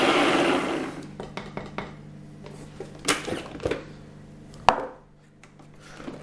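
Food processor blitzing torn bread into breadcrumbs: a loud whirring burst at the start, then intermittent rattling pulses and clatters of the blade and bowl, with a sharp knock near the end.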